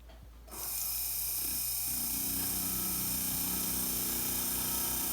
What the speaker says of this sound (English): use this very small ball burr, and I'm going to pull this down and make a new cut on there